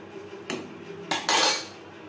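Metal spoon scraping and clinking against a pot while banana stem is stirred into masoor lentils, three short bursts of utensil-on-pot contact with quiet gaps between, close and clear with no talking.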